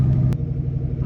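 Turbocharged old Yamaha YXZ side-by-side on a freeway, its engine droning steadily at a constant pitch through a short shift, with a brief sharp broadband burst partway through.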